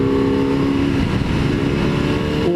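Motorcycle cruising on a road in Yamanashi, Japan, a steady loud engine drone with rushing wind, holding an even pitch and shifting slightly near the end.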